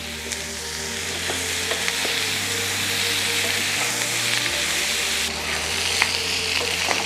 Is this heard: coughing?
no